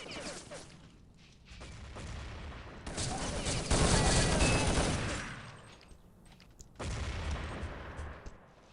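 Bursts of pistol fire from a Glock during a competitive multiplayer shooter match, loud layered volleys with sustained rattling stretches and brief gaps between them.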